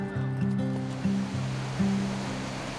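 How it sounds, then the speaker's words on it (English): Ain Khor stream west of Salalah, Oman, gushing water as a steady broadband rush, with a prominent tonal music-like layer over it. "the water that will soon dry up for many months is still gushing."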